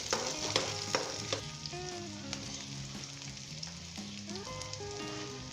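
Chopped onions soften in a pan over the heat, held short of browning, with a constant close sizzle and repeated scrapes and light taps of a spoon stirring through them.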